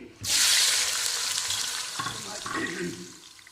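About four medium-sized chopped onions hit hot oil for an aloo anda curry, bursting into a sudden loud sizzle that settles into steady frying with a few stirring scrapes, close up and with no talking.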